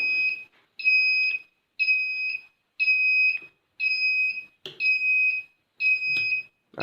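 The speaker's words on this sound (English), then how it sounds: "as soon as it goes above it, the active buzzer module comes into picture" Active buzzer module in a transformer health monitoring system sounding on overcurrent: a loud, steady electronic tone pulsing in seven regular beeps of about half a second each, with short gaps between them.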